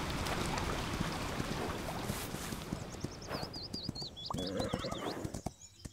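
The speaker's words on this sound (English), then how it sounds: "Gallop, sprint, sprint too fast." A horse gallops in an equestrian video game, rapid hoof clip-clops pounding close under wind and water-like ambience, giving way to a whinny with rising and falling tones near the end.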